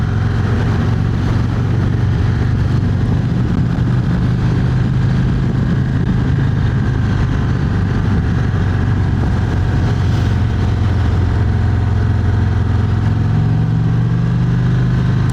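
A 2025 Indian Springfield Dark Horse motorcycle's engine while riding, a loud steady low rumble with wind rush that holds throughout, with no talking.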